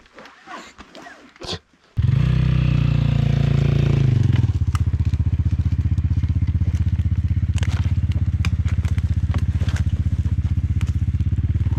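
KOVI Lite 300 enduro motorcycle riding off-road, with a brief rustle and crunch before the engine roars up loudly, then settles into a steady close throbbing idle or low-speed chug with scattered clatter from the terrain.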